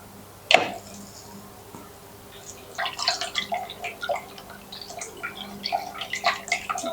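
Hardener is poured into 500 ml of water while making laundry soap from scratch, giving scattered small splashes and trickling drops that come in uneven bursts after one sharp knock, fairly close and moderately quiet.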